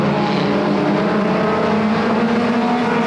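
Mini stock race cars circling Flamboro Speedway, a loud continuous engine roar from several cars at once, steady and sustained with no gaps, heard without talk.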